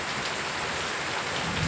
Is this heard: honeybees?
no